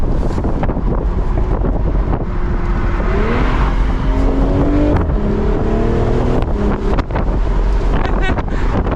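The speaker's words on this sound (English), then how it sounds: "hopefully you can hear that exhaust just a little bit more" Steady engine drone of a BMW Z4 sDrive M40i in Sport Plus mode, with rising and shifting exhaust tones as it accelerates, under constant wind rush, loud and close throughout.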